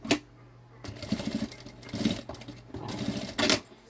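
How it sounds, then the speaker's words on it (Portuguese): A sewing machine stitches along the tip of a synthetic backpack seam in quick rattling bursts, close up, with brief pauses between runs and a sharp click at the start and end. "Vou passar a costura na pontinha também."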